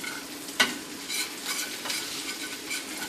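Scampi sauce stirred in a pan with a spoon, a sharp metallic clink followed by a bubbling sizzle and soft repeated scraping swishes, close and moderate in loudness, no talking.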